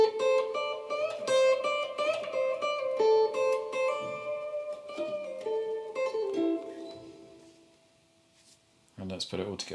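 An electric guitar plays a blues lick in a lesson, with clear, sustained single notes and bends phrased melodically, then fading to near silence before a brief final burst of notes.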